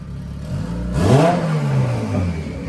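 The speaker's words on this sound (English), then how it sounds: "I'm just letting it idle just to cook in all this" Close by, a turbocharged Honda Integra engine idles just after its first start-up, with one quick rising rev before it settles back into a steady idle. No one speaks.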